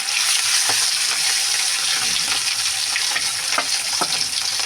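Fresh rohu fish pieces frying in hot oil in a kadai: a steady, loud hiss of sizzling with occasional soft clinks and stirs, close and alone.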